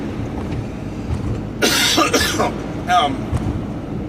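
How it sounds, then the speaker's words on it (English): A man coughs from snack dust caught in his throat, a couple of harsh bursts close to the microphone against a low background hum. "I got a cough."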